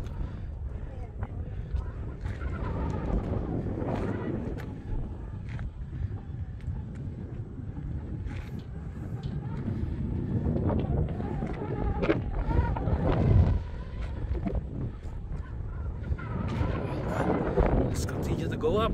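Strong, cold wind roars and buffets constantly on the top of Coronet Peak, New Zealand, rumbling low and loud, with a person talking intermittently over the gusts.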